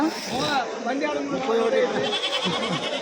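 Several goats and kids bleat repeatedly at Kadiri's weekly sheep and goat market, the wavering calls overlapping close by amid steady crowd chatter and voices talking.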